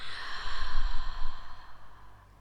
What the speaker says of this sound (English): It is time to take a very, very deep breath. Inhale with me. Exhale out.